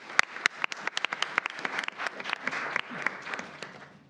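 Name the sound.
round of applause for students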